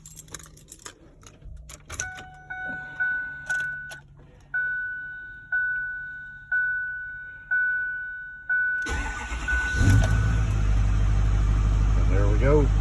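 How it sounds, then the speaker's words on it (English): A 6.4-liter V8 engine, its fuel system recently apart, cranks in repeated starter bursts with key jingles before catching near nine seconds and settling into a loud, steady idle. "I haven't started it today, so let's see if it starts."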